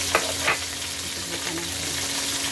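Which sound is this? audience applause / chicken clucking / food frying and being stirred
food frying and being stirred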